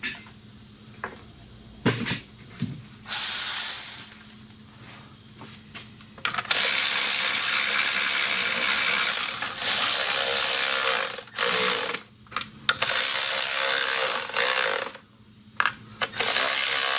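A ratchet tightens a part on a 2010 Dodge Grand Caravan during an engine swap, giving close bursts of rapid clicking separated by short pauses and mechanical handling noise.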